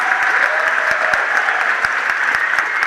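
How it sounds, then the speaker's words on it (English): Sustained audience applause at a college awards ceremony in London, dense steady clapping from a large crowd, loud and continuous throughout with individual sharp claps standing out. "So another round of applause for him"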